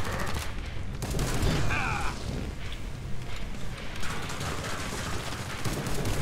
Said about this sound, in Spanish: Estoy disparando.